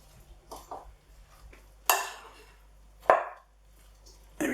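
Warm chicken is tossed through a Thai satay coleslaw salad, with soft rustling and a few sharp clinks and scrapes of utensils against the bowl, close and otherwise quiet.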